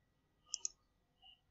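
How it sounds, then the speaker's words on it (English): The enter key on a computer keyboard is pressed, giving two faint, quick clicks close together in a quiet room. "then we'll press the enter key"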